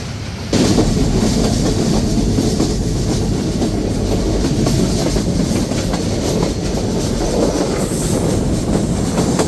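Chitra Express train running through Pakshi railway station in Pabna without stopping, a loud continuous roar of wheels on broad-gauge track with rhythmic clacking and some high wheel squeal.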